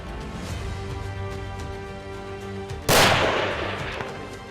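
A single rifle shot goes off while hunting mule deer high above timberline in Wyoming, a sudden loud crack with a long echoing tail that fades over more than a second against low outdoor rumble.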